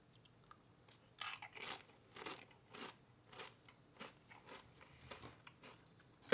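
Pringles chips crunched and chewed close up, a run of crisp bites and chews in uneven bursts, with no talking.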